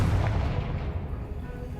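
A deep, booming blast from the Confringo fire spell in Hogwarts Legacy, a single heavy low rumble that decays over a couple of seconds.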